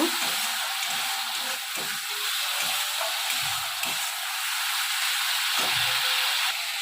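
Prawns and cauliflower with a little sugar are stirred in a frying pan, giving a steady, continuous sizzle and hiss with soft scraping.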